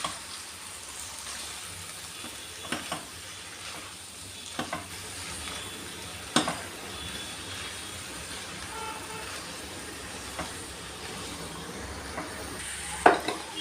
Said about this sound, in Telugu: మొత్తం వెజిటేబుల్స్లోకి కారం, ఉప్పు, పసుపు అంతా కలిసేలా బాగా కలుపుకోవాలండి